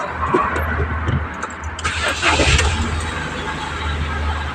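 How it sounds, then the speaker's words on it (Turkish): A Ford Fiesta car engine starting in a repair workshop after ABS pump repair, with a burst of broadband cranking and catching around the middle, then settling into a steady close idle rumble. "Çalıştırıyoruz arabamızı."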